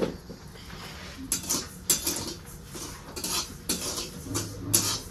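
Barnyard millet (bhagar) being dry-roasted and stirred in a pan on a gas flame, with repeated scraping clinks of a spoon against metal in irregular bursts, close up and moderately loud.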